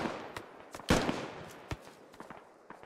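Gunfire in the tactical shooter Squad, with one loud shot and a few sharper, fainter reports scattered among nearby footstep-like thuds and rustling, no voices.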